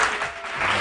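Audience applause on a weekend TV talk show: a short, dense burst of clapping from a crowd, fairly loud and steady, with no voices over it.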